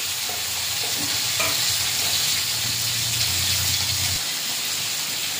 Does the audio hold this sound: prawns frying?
yes